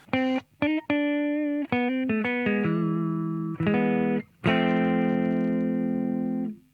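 Clean electric guitar notes and chords played one after another through a TC Electronic HyperGravity compressor pedal on a low setting, evenly sustained with smooth, level volume and no talking.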